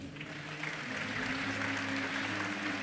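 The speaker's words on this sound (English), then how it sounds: "Give yourselves a round of applause." Students clapping together in a steady, dense burst of applause that fills the room and swells slightly louder after the first half second, with no talking over it.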